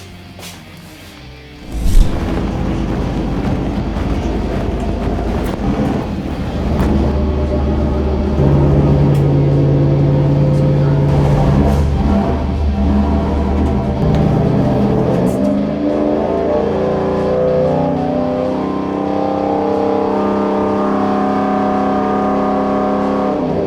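Engine being fired up after multiple power upgrades: a sharp start-up burst, then a steady loud running idle that holds and rises to a high idle with rising tones, close by.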